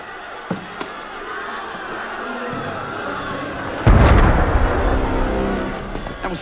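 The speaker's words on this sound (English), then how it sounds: "That was cannon fire." Cannon fire erupts in the video game Assassin's Creed Unity: a few faint distant thuds give way to a sudden loud, rumbling boom that rolls on with crowd-like noise beneath.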